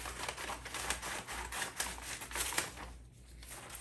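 Scissors cut and trim wrapping paper for a handmade gift, giving a close, crisp run of snipping and crinkling paper rustle with no talk.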